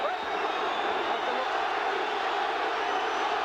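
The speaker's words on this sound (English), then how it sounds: "The crowd exhorting Johnny Tapia" A boxing arena crowd roars for Johnny Tapia midway through the eighth round of a WBO bantamweight title fight, a steady, unbroken wall of cheering from a large audience at moderate distance.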